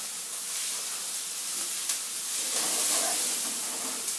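Diced garlic sizzles in a hot pan while cooking samosa filling, a steady, even hiss that continues unbroken from start to finish.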